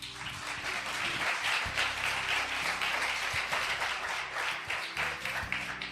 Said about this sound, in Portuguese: Você pode aplaudir a Cristo bem forte.